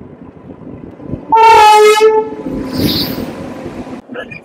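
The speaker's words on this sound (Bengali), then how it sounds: "ট্রেন অ্যানাউন্স হয়েছে, ট্রেন চলে এসছে, ট্রেন ঢুকছে।" The Black Diamond Express pulls into Bandel station with a loud, close horn blast lasting under a second, then rumbles in with a rolling, clattering noise and a brief hiss.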